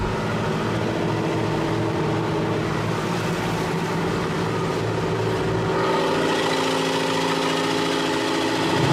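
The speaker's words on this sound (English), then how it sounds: "I'm going to take you across a bar under motors only now" Steady boat motors run under power alone while crossing a river bar near Port Macquarie and Laurieton, a continuous mid-pitched engine drone with low throbbing vibration, loud and close, with no talking.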